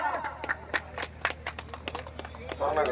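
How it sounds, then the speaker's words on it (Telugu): An audience at a village prize ceremony in Machavaram claps in scattered, uneven bursts, close and fairly sharp, with voices talking over the applause. "మొదటి బహుమతి యాభై వేల రూపాయలు మొత్తాన్ని క్లాప్స్ కొట్టాలి గట్టిగా"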